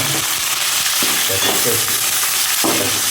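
Moringa leaves fry and get stirred in a pan with onion, mustard seeds, cumin and chana dal, giving a loud, steady sizzle broken by scraping stir sounds.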